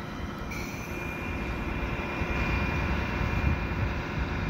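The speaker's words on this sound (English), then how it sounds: "I think I hear a train" A steady, rumbling intermodal freight train passes at a distance, with a continuous low roar and faint metallic squeal, with no voices.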